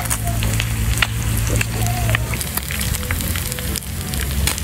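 Oil crackles and sizzles loudly in a pan while food fries over a fire at a fishing campsite, a dense, close spatter with sharp pops and no talking.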